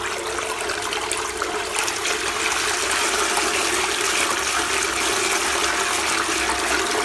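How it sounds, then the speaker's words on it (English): A high-power 24V micro brushless DC water pump, model DC60G-24120A-1, runs submerged in water, giving a steady rushing, flowing water sound at constant level throughout. "We place the pump on the water again to get the sufficient inflow to see whether it recovered back to normal."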